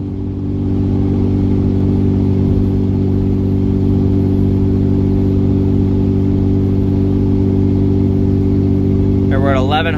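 Cummins 5.9 diesel pickup engine pulling steadily under load while towing, a loud continuous low drone with strong harmonic hum that holds throughout, with a brief higher rising whine near the end.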